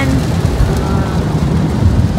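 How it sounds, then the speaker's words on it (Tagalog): Heavy rain falls in Japan on the way home from a factory festival, a loud, steady hiss that holds without a break. "Super lakas ng ulan."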